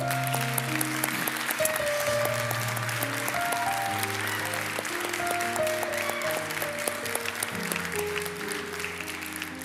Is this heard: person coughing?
no